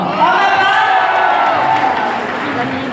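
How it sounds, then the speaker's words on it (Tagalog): A crowd at a barangay gathering claps and cheers loudly and steadily, with whoops and shouts over a continuous wash of applause. "Pwede ba humingi ng isang palakpak na may kasamang hiyaw?"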